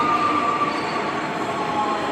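Brisbane suburban train at Palmwoods station on the Sunshine Coast, a steady broadband rail roar with a faint high wheel squeal running throughout, fairly close and continuous.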